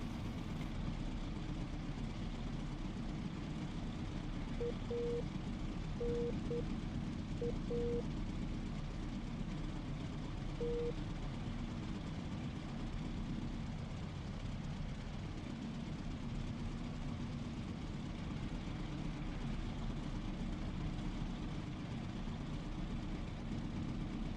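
Supermarine Spitfire piston engine, reproduced by the Echo 19 sound mod in the DCS flight simulator, drones steadily for the whole stretch as a dense, loud rumble with no breaks or changes in pitch.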